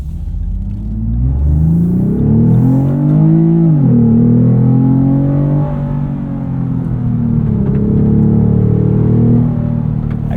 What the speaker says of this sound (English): And we do have our active sound control set to high, so we'll listen to what that sounds like